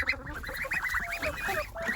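Month-old ducklings on a farm make a busy chorus of nasal quacks and peeps, close and continuous.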